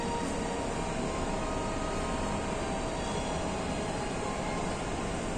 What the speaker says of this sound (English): This is train.